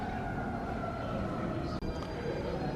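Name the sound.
sirens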